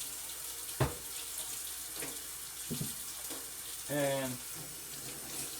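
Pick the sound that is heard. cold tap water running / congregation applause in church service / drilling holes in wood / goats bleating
cold tap water running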